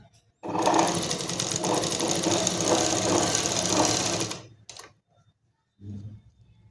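A sewing machine runs a steady, fast stitching burst for about four seconds, topstitching along the edge of a kurti collar. A short clatter and a brief mechanical thump follow after it stops.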